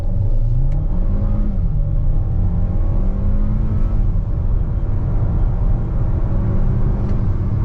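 A 2017-22 Kia Soul Turbo accelerating from 0 to 60 on a private road, heard from inside as a steady, loud engine drone climbing through several gear changes over continuous road rumble.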